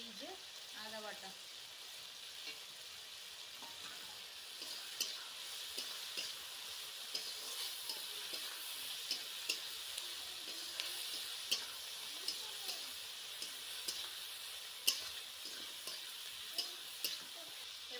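Crushed garlic with green chilli, dried chilli paste and ginger paste frying in a pan, giving a steady close sizzle with sharp ticks and pops scattered throughout, no voices over it.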